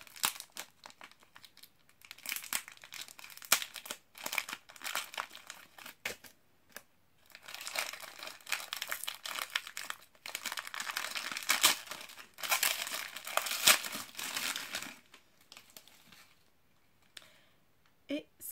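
Steady crinkling and tearing of paper and tape in bursts as a taped gift package is unwrapped, close and quiet, with brief pauses between handling.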